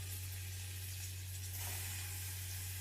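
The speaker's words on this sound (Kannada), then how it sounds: "ಇದನ್ನ ಎಣ್ಣೆಲಿ ಫ್ರೈ ಮಾಡ್ಕೋಬೇಕು ಚೆನ್ನಾಗಿ" Onions frying in oil in a pan over a high gas flame for egg biryani, a steady close sizzle and hiss with a constant low hum underneath, no talking.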